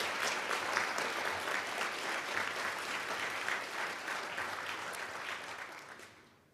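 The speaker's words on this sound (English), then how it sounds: "Give yourselves an applause." A large banquet-hall audience at an annual Black Excellence dinner claps steadily. The applause is dense and sustained, then thins and fades out near the end.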